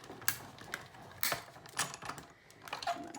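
Short, sharp snips and clicks of material being cut by hand in a quiet room, a few irregular crisp bursts spaced about a second apart.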